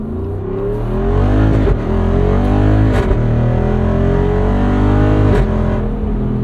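A 2024 Jeep Wrangler 392 Hemi Rubicon V8 with an 8-speed automatic, heard from inside as a loud steady engine drone that rises and dips with several lazy downshifts.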